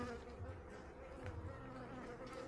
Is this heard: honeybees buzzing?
yes